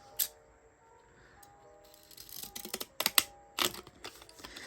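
Scissors cut through paper card in a craft studio, producing a few short, sharp snips and crunches in scattered bursts against a quiet room background.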